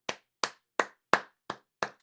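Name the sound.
audience clapping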